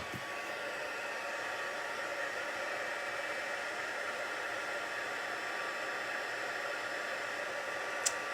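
Heat embossing tool warming up for card making, a steady close airy blowing roar like a hair dryer, constant in level from start to finish, with a small click near the end.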